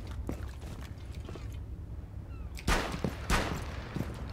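Video game gunfire aimed at shooting out a security camera: two sharp, loud shots about half a second apart ring out over a steady low background rumble, with a few faint clicks before them.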